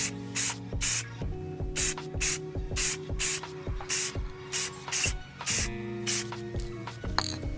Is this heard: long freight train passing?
no